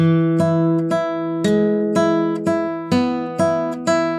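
Guitar playing the opening notes of Malagueña, a thumb-struck bass melody note on the fourth string with plucked treble notes on the first string, eight or nine clear ringing plucks at a steady moderate pace, close and alone.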